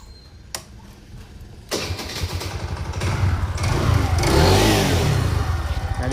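A TVS Jupiter scooter with a belt problem cranks over after a brief quiet pause, catches, and is revved, the engine note swelling louder and busier up close.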